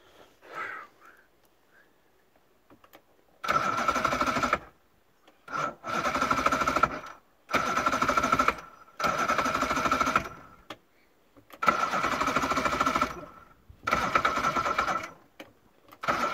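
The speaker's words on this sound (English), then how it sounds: "This engine didn't kick over for me now." Johnson V4 outboard boat engine cranking without catching, six bursts of whirring starter noise, each a second or two long, separated by short silent pauses, loud and close.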